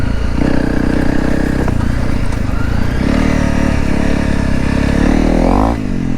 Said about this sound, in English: I love the way this freaking bike sounds with the full Yosh stainless steel exhaust.